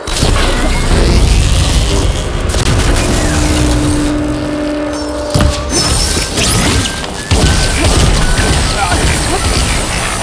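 Metal couplings shot and smashed in the video game Horizon Forbidden West, loud crashing impacts and clanks over dense game action, with a steady mechanical hum and a talking voice in the mix.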